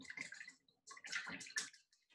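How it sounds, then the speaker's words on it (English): A small paintbrush swishes and clicks in a jar of rinse water during an acrylic painting class, several short splashy bursts close by with quiet gaps between, no talking. "I'm going to give it a little rinse in the water"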